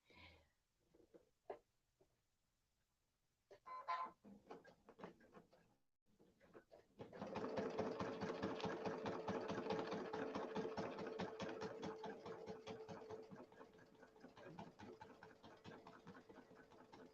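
A sewing machine stitching through quilting fabric with a ruler template runs steadily for about ten seconds after a few short starts and clicks, a close mechanical whir under quiet room sound.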